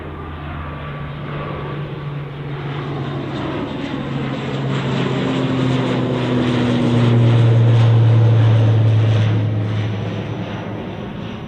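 An Aurigny propeller airliner departs Manchester Airport for Guernsey, its steady engine drone rising to a loud peak as it passes, then easing off, with no voices.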